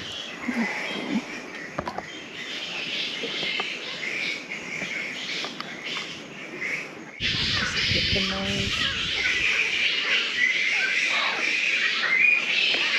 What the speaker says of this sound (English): just birds, though.